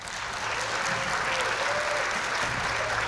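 Steady audience applause at an international youth silent film festival awards show, a dense continuous patter of many hands clapping at moderate volume throughout.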